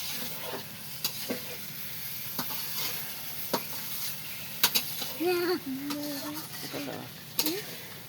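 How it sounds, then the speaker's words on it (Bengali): Food being stir-fried (koshano) in a pan: a steady sizzle with repeated scraping stirs, and a voice speaks briefly partway through. "এই যে প্রথমেতে দেখেন কিভাবে সুন্দর করে প্রথমে কষানো লাগে"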